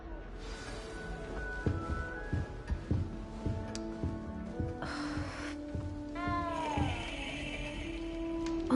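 A cat meows a few times in a Harry Potter video game, short tonal calls over game music and soft ambient effects.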